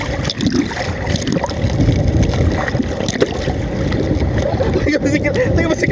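Sea waves wash and churn around a small boat off Dingalan, Aurora, in a continuous rough rush mixed with wind buffeting, with people talking over the noise.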